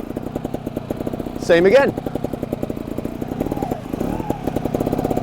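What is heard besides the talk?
2021 Beta Evo 300 trials motorcycle riding in second gear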